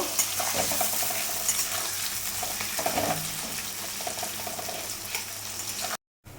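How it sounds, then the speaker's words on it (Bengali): Onions fry in hot oil with whole garam masala in a kadai, a close hissing sizzle with stirring clatter, steady and moderately loud before a brief cutout near the end. "পেঁয়াজটা আমি একটু ভাজা ভাজা করে নেব।"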